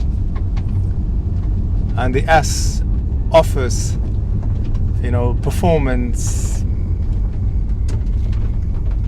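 A Porsche 911 Carrera S, 991.1 generation, idles or cruises in standard mode with a steady low engine and exhaust rumble beneath someone talking over it.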